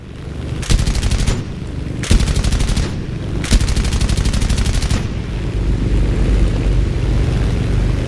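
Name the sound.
aircraft gunfire shots in a flight combat video game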